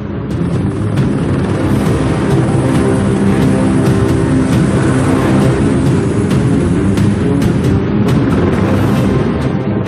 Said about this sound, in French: L'hélicoptère est maintenant à l'approche.